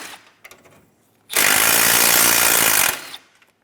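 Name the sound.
power tool removing 10mm bolts from hood latch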